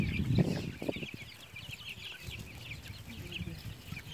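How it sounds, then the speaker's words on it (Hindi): Farm chickens cluck softly nearby, with a louder low clucking burst at the start followed by scattered quieter calls and rustling, faint throughout. "इधर ये मुर्गी घूम रहा है"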